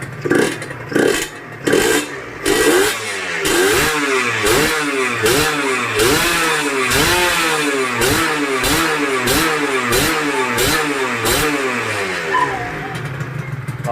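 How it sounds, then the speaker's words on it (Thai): Honda LS125 motorcycle engine revving up repeatedly in a steady rhythm of blips, loud and close, with no talk over it. "ฟังเสียงเบิ้ลเครื่องนิดนึง"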